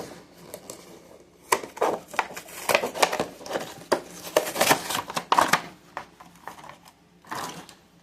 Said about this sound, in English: let's go and unbox this one.